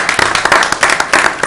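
Brief burst of applause at a Putnam County, Florida, county board of commissioners meeting: a roomful of hands clapping in a dense, uneven patter for about a second and a half, with no talk over it.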